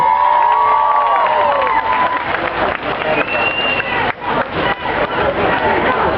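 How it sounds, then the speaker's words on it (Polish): Outdoor festival crowd at a town days celebration clapping and cheering, lively applause with whoops and shouts, loud and near, while voices carry over the noise. "Raz jeszcze gorące brawa."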